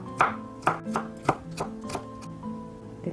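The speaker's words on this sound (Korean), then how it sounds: "이렇게 남은 부분을 칼로 가늘게 채 썰어 주세요" A kitchen knife is julienning the remaining part of a carrot into thin strips on a cutting board, with about nine crisp, fairly regular chops close by, each followed by a short dull knock.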